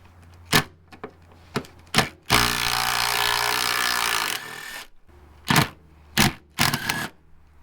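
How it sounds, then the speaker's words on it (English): Ratchet with a 12 mm socket loosening running-board bolts on a second-generation Toyota Tundra, with sharp clicking bursts, a sustained two-second ratcheting whir, then more short clicks up close. "All right, let's take these bolts off here. So I'm gonna put my 12 on."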